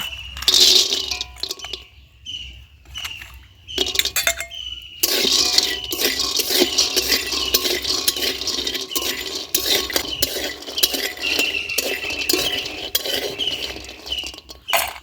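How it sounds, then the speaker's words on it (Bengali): Bori lentil dumplings fry in mustard oil in a pan with a spoon stirring. Scattered metallic clinks and scrapes come first, then a continuous close sizzle with repeated utensil taps, and no speech. "প্রথমে আমি বড়িটা ভেজে নেব"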